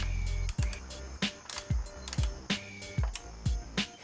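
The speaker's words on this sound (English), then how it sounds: "Now we're gonna get a little tightening over here." Metal ratchet clicks and short tool strikes while bolts are snugged down during an air filter install on a Ducati StreetFighter V4 S, coming in several separate close bursts with brief pauses between them.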